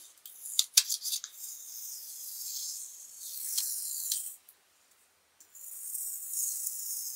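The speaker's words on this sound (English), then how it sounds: "very carefully remove the mint tape" Mint masking tape peeled slowly off a handmade butterfly card panel, giving soft, close, papery tearing hisses in several bursts with a brief quiet pause midway.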